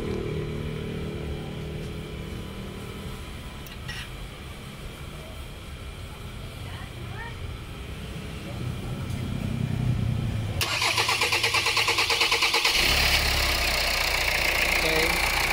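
A Hyundai Tucson with extended cranking and hard starting cranks for a long stretch under a steady whir, then catches and settles into a louder, even idle close by, with brief talk in the background.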